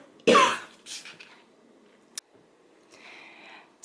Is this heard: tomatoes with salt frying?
no